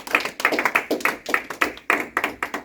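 A church congregation claps in a steady, brisk rhythm, with many hands striking together in clustered bursts that continue throughout, fairly close and lively.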